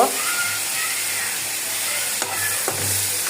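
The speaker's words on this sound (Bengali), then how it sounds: "দেখেন মাছটা ভালো করে কষাই নেব" Tengra fish sautéing in spiced oil in a pan, giving a steady close sizzle and hiss with a few sharp scrape-like ticks from stirring near the end.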